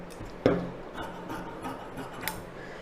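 Scissors cut through blouse lining fabric with one sharp snip followed by softer rasping, rubbing cuts, close and quiet, with no voices.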